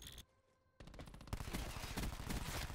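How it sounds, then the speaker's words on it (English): A cluster grenade going off in Black Ops 4: a short burst, a brief pause, then a loud rapid chain of overlapping explosive cracks that keeps rolling on. "Cluster grenade. No! Kaboom!"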